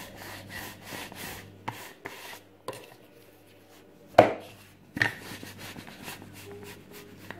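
A rolling pin rolls out floured pastry dough for spring rolls, making repeated soft rubbing strokes on a wooden board in an even back-and-forth rhythm, with a couple of sharper knocks.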